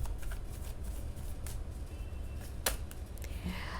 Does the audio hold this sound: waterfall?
no